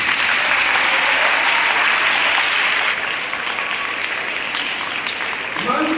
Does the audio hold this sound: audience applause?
yes